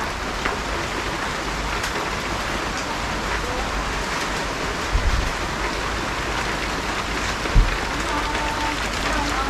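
Steady rain patters on a surface, a constant hiss with a couple of brief thumps partway through.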